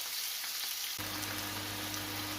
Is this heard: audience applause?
no